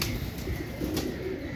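A purebred Imam Deen pigeon coos softly and close by in a short, low murmuring call, alone without talk.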